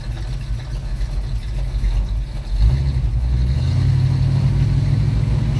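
A cold Ford engine in 20-degree weather catches and runs, its low rumble rising in level partway through and then holding a steady, louder idle with no voices over it.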